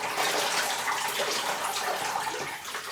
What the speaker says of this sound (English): I pour some water over them as I water the plant